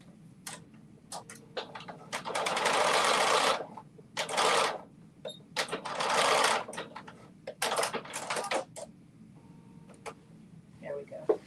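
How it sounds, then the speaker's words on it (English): A sewing machine stitches a small piece onto a pickleball dress top, running in several whirring bursts of a few seconds each, separated by short pauses and light handling clicks. "now let me just sew this little piece on right here"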